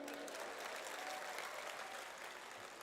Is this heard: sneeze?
no